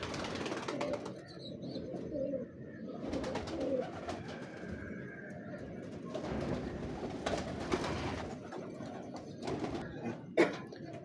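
Domestic pigeons kept by a fancier coo in a steady, low murmur through the whole stretch, with occasional wing flaps and a sharper knock near the end; no voices.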